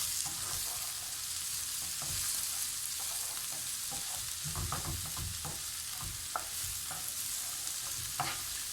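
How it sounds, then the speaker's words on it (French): Onions fry over high heat for lasagna, giving a continuous moderate sizzle broken by intermittent stirring scrapes and light clinks of a utensil in the pan, with no speech. "Donc c'est à feu vif, hein. Il faut mettre tout ça. Sans brûler les oignons bien sûr."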